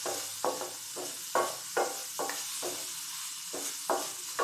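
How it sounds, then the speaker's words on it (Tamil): Chopped carrot and cucumber frying in a pan, a constant background sizzle punctuated by around ten regular scraping stirs of a spatula, close but moderately quiet. "கேரட்டும் கியூக்கம்பரும் கட் பண்ணி வச்சுருக்கேன். அதை போட்டு ஃப்ரை பண்ணிக்கிறேன்."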